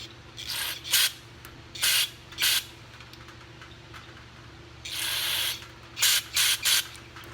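Several short bursts of aerosol cleaner spraying into the carburetor of a 1995/1996 Toro Super Recycler lawn mower, close up, a couple of longer sprays in the middle, separated by quiet pauses over a low hum.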